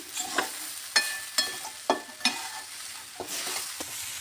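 Flattened rice (chira) being stir-fried with turmeric in a pan, with a series of distinct scraping stirs about half a second apart over a soft background sizzle, close and moderately loud, no voices.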